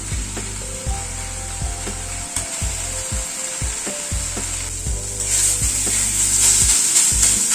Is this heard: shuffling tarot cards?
no